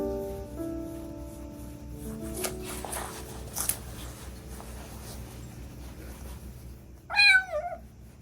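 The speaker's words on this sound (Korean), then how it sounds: "야옹." A kitten gives a single short, high meow near the end over a quiet indoor background with faint rustling and light handling noises.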